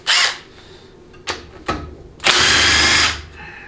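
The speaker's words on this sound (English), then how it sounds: "now we're gonna take off all the valve body bolts, 10 millimeter" A power tool spins off 10 mm valve body bolts on a 700R4 automatic transmission teardown: three short whirring bursts and then a longer, louder run, close up with quiet gaps between.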